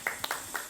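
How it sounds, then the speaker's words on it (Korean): A church congregation at a service gives a few brief, scattered hand claps, thin and close, over about a second. "우리 찬양받은 주님 앞에 감사의 박수를 한번 올려드리면 어떨까 싶습니다."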